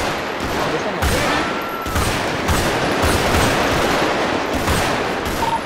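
Rapid, dense gunfire in a video game, aimed at a helicopter, crackles in continuous bursts close up, with brief pauses between volleys.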